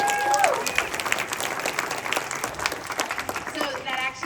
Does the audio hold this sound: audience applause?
yes